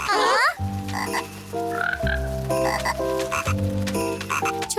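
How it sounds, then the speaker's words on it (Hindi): Cartoon frog croaking in a loud run of repeated, rhythmic calls under an animated children's soundtrack, with no voices over it. "देखो, ये वही मेंढक है जिसकी हमने मदद की थी।"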